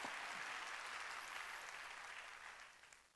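Sustained applause from a church congregation during a Sunday service, a dense wash of clapping that holds steady, then slowly fades, heard at a distance.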